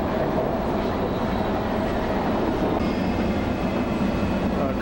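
A Washington DC Metro subway train rumbles along, a dense, steady roar of wheels and car noise heard from inside, loud and unbroken throughout.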